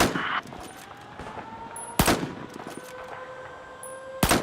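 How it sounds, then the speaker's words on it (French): Sharp gunshots crack out at intervals, with high whizzing streaks of passing bullets between them, set against a steady game soundscape. "ils entendent siffler les balles là"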